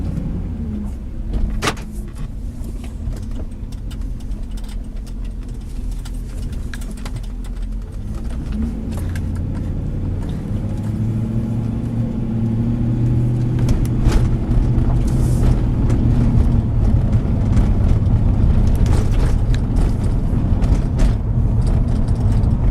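A 2005 Ford Expedition pulls away, its engine droning low and steady, then building in a rising hum of acceleration heard from inside the cabin, with a few clicks and knocks over the top.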